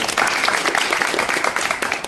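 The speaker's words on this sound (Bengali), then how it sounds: "একটা হাততালি দাও সৌরভের জন্য।" A room full of people claps for a student, giving a brisk, continuous burst of applause that holds at an even level from start to finish.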